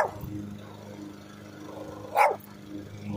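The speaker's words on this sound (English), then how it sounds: "I see those dogs" A dog gives a single short bark partway through, medium distance, over a quiet low background hum with no talk.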